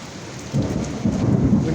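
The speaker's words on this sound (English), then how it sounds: "It's raining really badly." Heavy rain pouring down steadily with low rumbling thunder rolling underneath, loud and close, with no voices.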